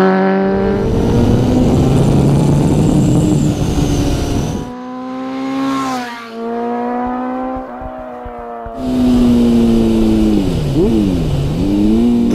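A Honda CBR900RR FireBlade motorcycle engine revs loudly and close, with rising and falling pitch as it winds up, then drops back as the throttle closes, a brief lull and another strong rev.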